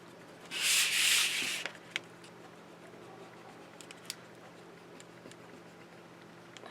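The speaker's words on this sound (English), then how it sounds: "we're going to put our magnet onto there like that, and we're going to burnish it very well." A magnet is burnished by hand onto a decorative craft album page, with one close, brisk rubbing burst lasting about a second, followed by a few faint ticks and light taps in a quiet room.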